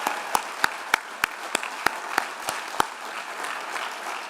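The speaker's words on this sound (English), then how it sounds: "let's give the team a great big round of applause for pulling this off." Applause from the audience at a university chancellor's investiture ceremony, with a few distinct, evenly spaced nearby claps standing out over a softer spread of clapping from the wider crowd.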